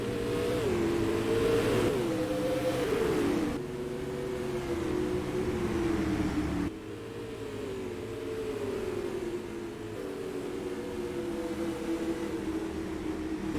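Supermodified race cars in a sim racing game drone steadily at high revs, their engine pitch wavering and dipping through corners, with several cars heard at once and no talk.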